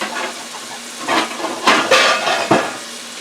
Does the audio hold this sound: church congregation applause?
no